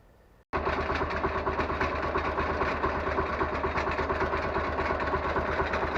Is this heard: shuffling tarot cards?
no